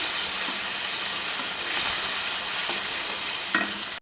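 Whole cumin tempering sizzling in oil with potatoes, salt and spices, a dense continuous hiss with intermittent stirring scrapes and a clunk just before it cuts off, no talking.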